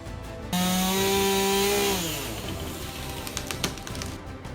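A chainsaw cutting wood with heavy machinery runs loudly with a steady high whine for about a second and a half, then the pitch drops and fades as it bogs into rattling, crackling noise.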